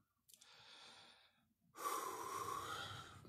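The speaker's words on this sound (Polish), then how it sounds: "Możemy sobie wziąć jeden taki głęboki oddech" A deep, slow breath taken during a guided relaxation and breathing exercise, a softer airy inhale followed by a louder, fuller breath up close, with no talking.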